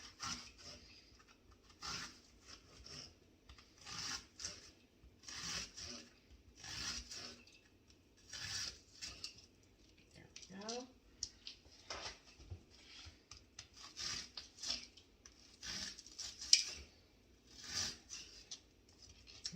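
Knife slicing an onion into half slices on a cutting board, a steady series of short rasping chops repeated in quick clusters, close and fairly quiet with no talking.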